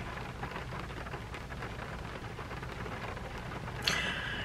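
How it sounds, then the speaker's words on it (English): Steady, faint rain falls outdoors as a soft, even hiss that lasts throughout, with a brief brighter burst of sound near the end. "Hopefully there'll be a break in the rain so I don't get soaked"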